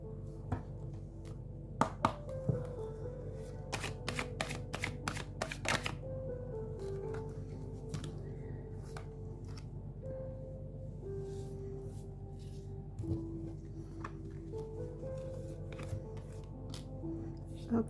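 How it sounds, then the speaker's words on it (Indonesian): A deck of tarot cards is shuffled nearby: a quick run of crisp riffling clicks, then sparser taps and soft handling over a low steady hum. "Oke, kartunya sepertinya berantakan ya. Mau diacak, mau ditarik semua."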